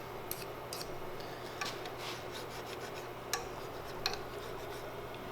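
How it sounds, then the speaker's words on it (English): Three-cornered file rasping the edge of a ramrod tip to break a burr, with soft, faint scraping strokes and a few light ticks, quiet and close. "So I'm going to use a file. 3-cornered file."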